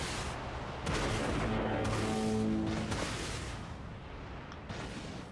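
Heavy booming cannon shots from a sniper weapon in the space-battle game Dreadnought, several deep blasts with a humming engine drone behind them, fairly loud and with no talk.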